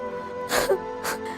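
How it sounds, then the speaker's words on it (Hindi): In an animated Hindi story, a woman cries out from a bamboo stalk being cut: two breathy, sobbing bursts over a faint, steady background tone. "उन लोगों को किसी औरत के रोने की आवाज आने लगी।"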